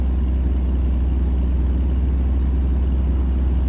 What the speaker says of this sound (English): For people who don't want to really hear the engine too much